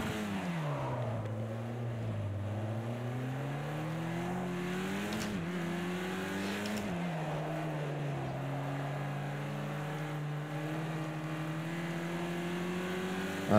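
A Caterham race car in Project Cars 2 at Willow Springs drives continuously, its steady engine note rising and falling through gear changes with a prominent, sustained drone throughout.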